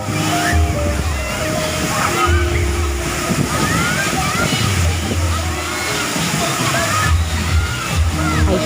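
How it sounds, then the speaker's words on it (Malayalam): A waterfall in Alappuzha rushes steadily and loudly while children play and splash in the water, their high voices and chatter rising over the constant roar. "കുഞ്ഞുങ്ങളാണ് ഒരുപാട് കളിക്കുന്നത് വെള്ളച്ചാട്ടത്തിൽ."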